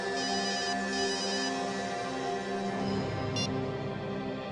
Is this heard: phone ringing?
yes